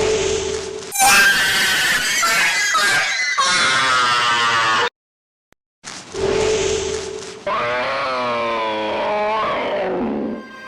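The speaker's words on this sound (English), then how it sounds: "letting out a screech whenever they spawn." Sinister Talon monsters in the video game Bujingai let out harsh, shrill screeches as they spawn, two loud wailing bursts split by a brief silence, the second bending and warbling in pitch.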